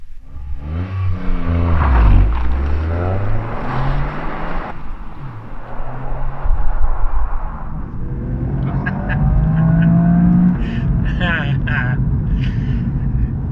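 A 2021 Toyota GR Yaris drives past close by, its engine note rising and falling as it accelerates, with talk running over much of it.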